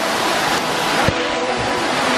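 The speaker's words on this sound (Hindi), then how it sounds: "माता जी के मंदिर के जस्ट साइड में छोटा सा फॉल टाइप है, पानी गिर रहा है." A small waterfall beside a temple near Indore, swollen by rain, pours in a steady broadband rush close by, with a brief thump partway through and no talk.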